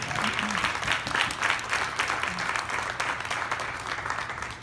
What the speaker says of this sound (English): How about a big round of applause for COTAD?